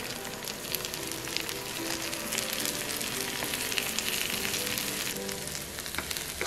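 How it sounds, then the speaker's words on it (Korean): Cheese-stuffed sweet potato frying in olive oil in a hot pan, a continuous dense sizzle with crackling pops, close and steady throughout. "달군 팬에 올리브오일을 두르고 치즈를 넣은 고구마를 구워주세요."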